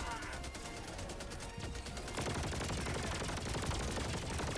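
Artillery barrage in the video game Helldivers 2, dense rapid booms and crackling blasts rolling continuously and loudly, intensifying halfway through.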